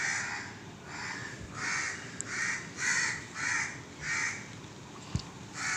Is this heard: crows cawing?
yes